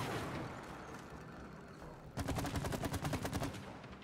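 Rapid gunfire bursts from shooting in the video game It Takes Two, a loud run of sharp repeated shots starting partway through after a stretch of rumbling game noise.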